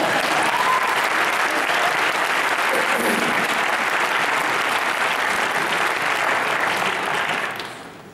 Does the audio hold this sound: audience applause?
yes